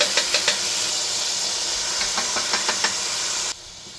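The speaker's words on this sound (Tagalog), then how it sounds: "pagsabayin ko na guys yung ating bawang at sibuyas. Igisa" Garlic and onion sauté in a pan for a ginisang patola dish, giving a steady close sizzling hiss with light spatula taps and scrapes. Midway the sizzle drops sharply quieter.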